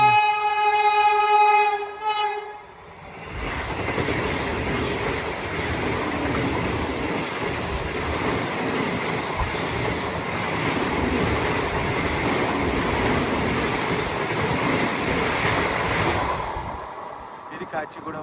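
Vande Bharat express trains passing and overtaking on the Kakinada to Mysore route, a brief horn at the start, then a long steady roar of a train rushing by close for about fifteen seconds before fading.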